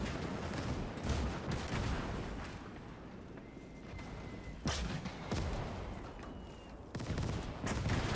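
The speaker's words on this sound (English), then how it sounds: "Oh, if that wasn't a barrage, I don't know what is." An artillery shell barrage pounds the battlefield in the WWII game Gates of Hell, a rapid string of sharp blasts and cracks with rumbling echoes, loud and near, scattered across the scene with brief lulls between bursts.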